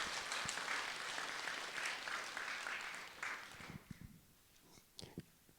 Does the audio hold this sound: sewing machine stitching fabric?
no